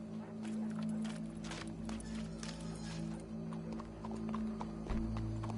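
Horse hooves clip-clop steadily in a video game, close and fairly loud over a low droning background hum, with a faint voice in the mix.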